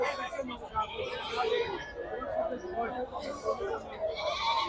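Goats bleat repeatedly at a local livestock market amid a crowd's babble and nearby talking, the calls rising and falling over the busy hum.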